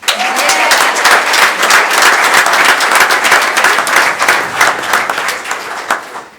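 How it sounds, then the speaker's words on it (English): Sustained applause from a crowd at a school committee meeting honoring the 2019 Hillsborough High School varsity gymnastics team, dense and steady throughout before easing slightly at the end. "You can applaud."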